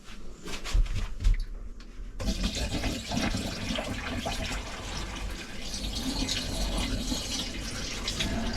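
Water poured into motorhome bathroom pipes runs down toward the grey water tank in a smooth, steady rushing flow after a few brief knocks, close and moderately quiet, without gurgling air noise.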